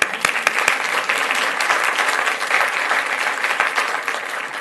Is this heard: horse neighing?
no